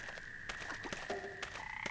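Frogs croaking in the video game Memoranda, a series of short, clear croaks repeating at an uneven pace alongside soft tonal game music, fairly quiet, with no talking.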